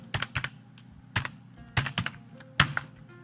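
Keystrokes on a computer keyboard as a command is typed into DiskPart on Windows, a few bursts of quick, close clicks separated by short pauses, no voices.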